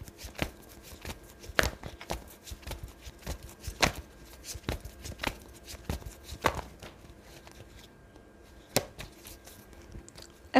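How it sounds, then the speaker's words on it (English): Tarot cards are shuffled in a series of crisp, irregular riffling snaps and taps, close and fairly clear, with quiet pauses between bursts and no talk. "One more shuffle."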